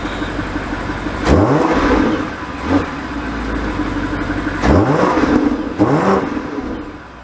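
2024 BMW X5 M60i with a V8 accelerating on the road, several loud rising engine revs with gear shifts between them over a steady cabin drone.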